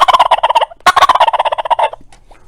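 A turkey mouth call with a bat wing cut imitates a turkey, giving two loud, close bursts of rapid, raspy yelping notes with a short gap between them and no other sound.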